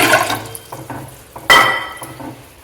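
A cup of water is poured into a pot holding sugar and ghee for a Diwali shankarpali dough, heard as close splashing gushes with a stronger pour midway, then trickling off.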